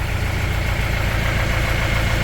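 A narrowboat's diesel engine idles close by with a steady low knocking chug, loud and continuous, with no voices over it.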